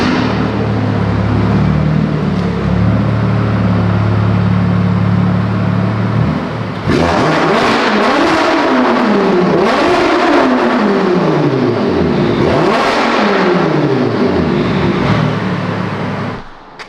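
A 900-horsepower BMW M4 drives loudly through snow, its engine a steady roar that surges into a series of rising and falling revs over the second half, close and constant throughout.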